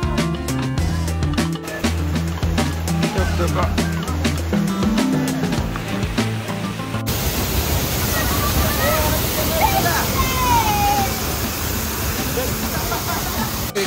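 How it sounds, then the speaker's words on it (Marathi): Steady, heavy rushing rainwater pours down the stone steps of Raigad fort during a cloudburst, loud and close like a torrent, with a sharp change in texture halfway through. "गाड्यावर एवढा पाऊस जोरात चालला की पायऱ्यांवरनं पाणी वाढलं"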